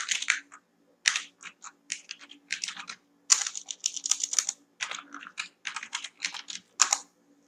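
Computer keyboard typing during modem setup, a quiet run of quick clicky keystrokes in short bursts with brief pauses, heard alone without talk.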